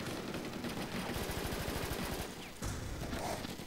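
Rapid bursts of automatic gunfire from the War Inc Battlezone shooter game rattle steadily through the first half, thinning out near the end amid constant game noise.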